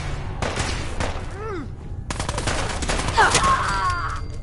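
Bursts of gunfire in Fallout 4 ring out close and loud, rapid automatic shots and heavy blasts building toward a chaotic volley, with voices shouting briefly in between.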